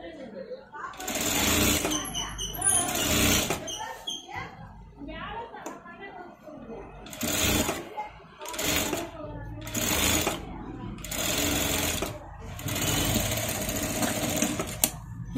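A sewing machine joins the front and back parts of a garment in several loud, rapid whirring bursts of stitching separated by brief pauses, with talk in between.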